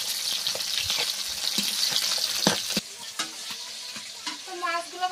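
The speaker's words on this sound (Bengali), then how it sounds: "মাছগুলো ভাজা হয়ে গিয়েছে, এবার তুলে নিচ্ছি।" Large pond-fish pieces and heads fry in a pan of oil, giving a dense, steady sizzle with stirring clatter for about three seconds. The sizzle then settles to a softer crackle while a voice hums briefly.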